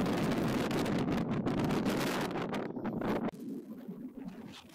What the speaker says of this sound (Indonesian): Siapa sangka angin di atas sekencang ini.